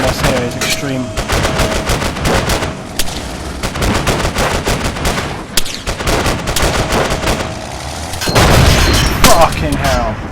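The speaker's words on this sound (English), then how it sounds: "Oh, the amount of rounds coming in on us here is extreme." Heavy incoming fire in an Arma 3 battle with modded sound: dense rapid machine-gun bursts and cracking rifle shots, loud and close, with a deeper boom near the end.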